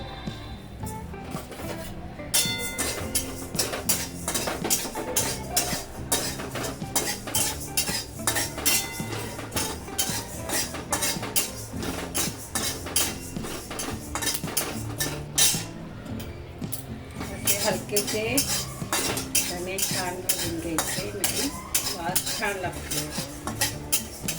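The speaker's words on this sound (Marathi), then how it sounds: "पहिले धने टाकायचे कढाई गरम झालेली आहे" Coriander seeds dry roasting in a hot kadai, stirred constantly with a metal spoon that scrapes and clatters against the pan in a busy, rapid rhythm throughout.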